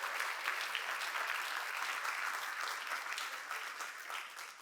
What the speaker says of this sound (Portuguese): Pode aplaudir, aplaude ao Senhor.